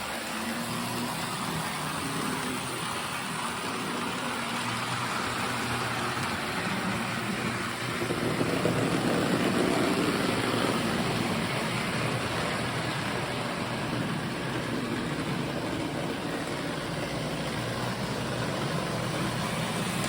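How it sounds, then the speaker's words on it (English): A Lionel Santa Fe model toy train runs around its track with a continuous whirring, growling motor hum and wheel rumble, steady and close for the whole stretch. "So I think I need to run the trains now."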